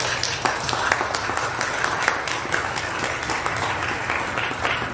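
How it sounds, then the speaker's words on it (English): A church congregation at a Sunday Mass applauds, with many hands clapping in a steady, dense patter that carries evenly for about five seconds at moderate volume. "Give her a nice round of applause."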